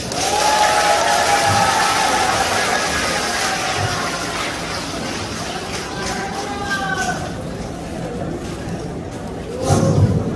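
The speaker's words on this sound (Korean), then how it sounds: "박수를 모십니다." A crowd at a church press conference applauds, a broad wash of clapping with voices mixed in that fades gradually and then swells briefly again near the end.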